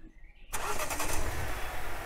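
A truck engine cranks and catches in a video game, starting abruptly after a quiet moment, then running at a loud, rough, steady idle.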